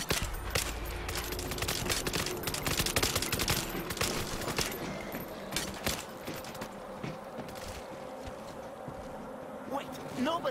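Rapid machine gun fire in the zombie shooter World War Z Aftermath on the Marseille map, dense sustained bursts of automatic shots with a buzzing, chattering texture, loud throughout and easing slightly toward the end.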